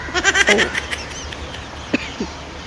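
A goat bleats in a wavering burst near the start, followed by fainter short calls and quiet background noise.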